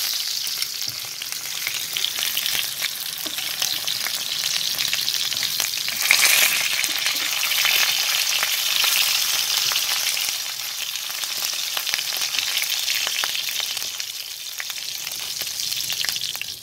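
Meat sizzles steadily in a pan as it browns, a dense crackling hiss that holds close and even throughout with a brief louder flare midway and no talking.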